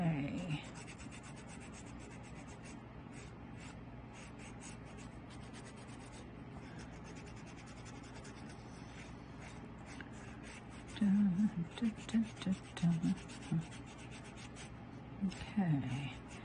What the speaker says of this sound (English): I'm using AubraNet P180, which is less coarse than the 120 I used before